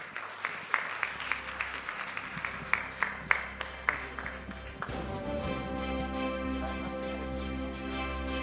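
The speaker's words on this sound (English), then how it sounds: "once again, a big round of applause, ladies and gentlemen, for Anil Kapoor in the house" Audience applause at the IAA Leadership Awards 2021 ceremony, a large hall breaking into sustained, dense clapping that swells and holds steady, preceded by scattered individual claps over a low hum.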